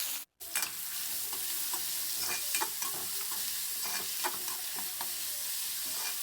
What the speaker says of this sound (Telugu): ఇప్పుడు మనకి ఆయిల్ హీట్ అయిపోయింది కదా ఈ ఆనియన్ పచ్చిమిర్చిని ఇలా వేసేసి